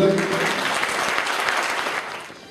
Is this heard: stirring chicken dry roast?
no